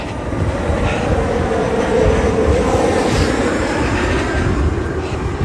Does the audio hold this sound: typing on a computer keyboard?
no